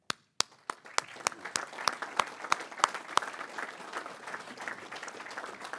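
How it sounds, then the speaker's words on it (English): Audience at a Bayou Jamb media day event applauds volunteers and committee chairs, opening with a few sharp isolated claps that swell into steady, dense clapping from a sizeable crowd in a hall. "if you'll stand, and we'll give you a round of applause"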